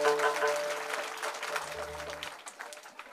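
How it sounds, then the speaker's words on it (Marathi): Soft, scattered clapping from an audience at a kirtan, fading gradually over a few seconds while someone speaks over it. "म्हणून त्यांच्या टाळ्या सुद्धा अशा हळू"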